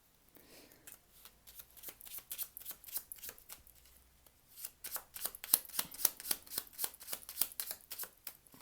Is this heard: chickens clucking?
no